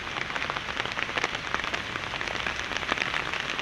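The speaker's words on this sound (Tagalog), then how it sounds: "Magdamag na naman po itong ulan." Steady heavy monsoon rain pours down overnight in Bulacan, Philippines, drumming densely on a surface with constant hiss and no pauses.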